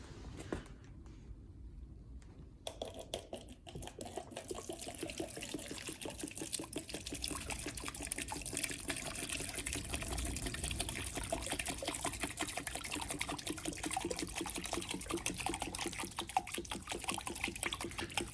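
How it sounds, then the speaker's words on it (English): Old, roughly 20-year-old petrol poured from a container without a spout into another vessel, a steady close liquid trickle and glug running continuously with no talk. "I'm going to try, without spilling too much, get the petrol out into that, and we can see what sort of colour petrol we have"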